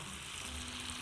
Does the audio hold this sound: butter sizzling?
yes